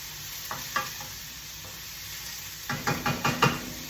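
Shrimp egg foo young fries in a pan with a steady hiss, overlaid by a few soft clicks and then a burst of louder, close sizzling crackles toward the end.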